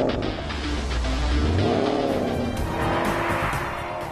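A Porsche Panamera GTS with 316 kW accelerates hard, its engine note rising steadily in pitch through a gear while tires hiss on the road, loud and continuous with no talking.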